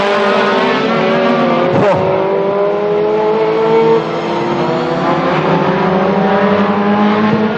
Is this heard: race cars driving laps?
yes